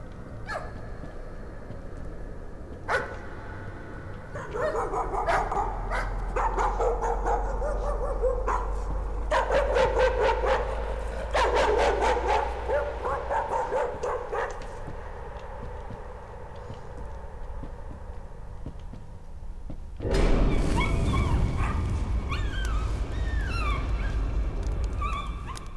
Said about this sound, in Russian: Жалко собачек.